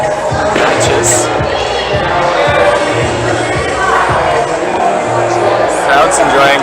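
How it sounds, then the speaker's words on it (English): Spectators cheer at a top rope climbing finals, a busy crowd roar with shouts swelling and easing under a commentator's talk. "Crowd's enjoying her work"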